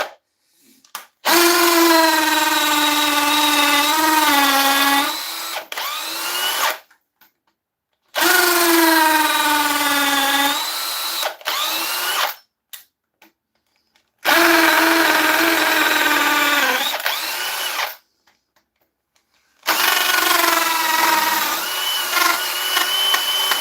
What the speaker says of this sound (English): At least I know where to drill.